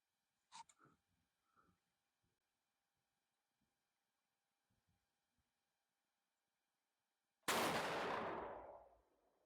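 A single loud rifle shot from a Savage 110 Trail Hunter in 7mm-08 cracks out late in the clip after a long quiet stretch with a few faint handling clicks, its boom trailing off over a second or so.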